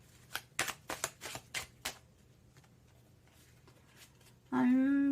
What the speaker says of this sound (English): Some of my decks are really good at doing that kind of shuffle